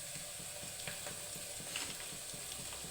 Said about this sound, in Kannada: ಒಂದು ಸ್ಪೂನಷ್ಟು ಶುಂಠಿ ಬೆಳ್ಳುಳ್ಳಿ ಪೇಸ್ಟ್ ಹಾಕ್ತಾಯಿದ್ದೀನಿ ನೋಡಿ